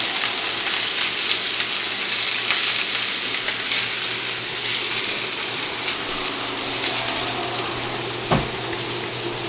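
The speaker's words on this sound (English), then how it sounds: "We're going to sear off the sides of the steak." Steak searing in a hot pan, a continuous loud, hissing sizzle close by, steady and even throughout, with one brief knock near the end.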